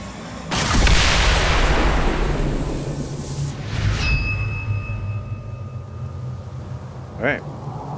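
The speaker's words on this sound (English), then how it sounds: "we're gonna shoot the" Gunfire in a video game: a loud booming shot erupts and rumbles away, followed by a second blast and ringing electronic tones, with a brief sharp sound near the end.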